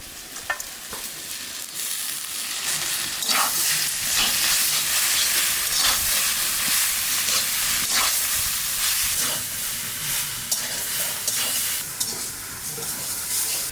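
Hilsa fish head frying with ash gourd in hot oil gives a loud, steady sizzle with crackling spatter. Occasional stirring scrapes sound throughout, and no voice is heard.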